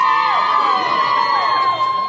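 Fans of the Lions at an AFL Grand Final cheer and shout together, a loud, dense burst of high whoops and yells close by, with no separate talk.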